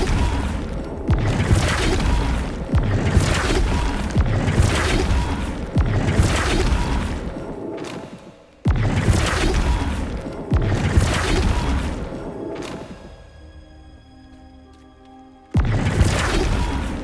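Flipendo spell impacts in Hogwarts Legacy, a series of loud booming crashes repeating every couple of seconds, with a quieter ringing lull before a final impact.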